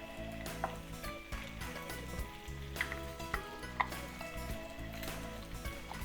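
Garlic sizzles and fries in a pan while beef ribs are being cooked, a steady crackling hiss broken by occasional clinks and scrapes of a utensil against the pan.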